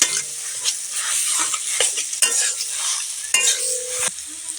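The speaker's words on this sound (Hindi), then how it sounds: "अब अच्छे से भून लेते हैं। आँच को हम कम कर दिए हैं, क्योंकि हमारा पेस्ट जो अच्छे से बनेगा, भुन जाएगा" A spiced paste for aloo chop fries over low heat in a pan, a steady close sizzle broken by repeated scraping strokes of a spoon stirring it, with no talking.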